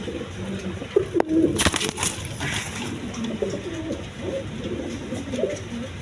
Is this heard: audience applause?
no